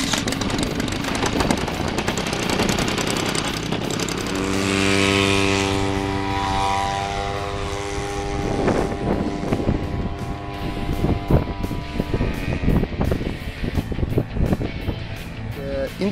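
An unmanned aircraft's propeller engine runs and revs up for takeoff, a buzzing drone that rises into a steady harmonic whine, loud and close, with scattered clatter and voices around it.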